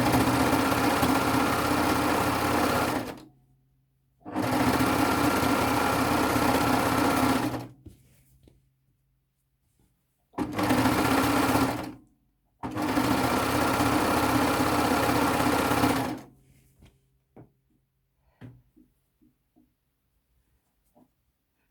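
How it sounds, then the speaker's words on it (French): A Baby Lock Gloria overlock serger stitching fabric for a pair of shorts, running in four loud, steady motor bursts of a few seconds each with short pauses between, close up, followed by quiet handling clicks. "Alors, ma surjeteuse, elle peut faire différents points puisque j'ai la Gloria, la Babylock, la dernière."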